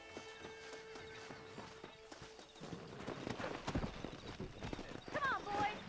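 Horse hooves clip-clop in a quick, uneven rhythm in the video game Red Dead Redemption, growing louder and busier toward the end, with faint voices and tones in the background.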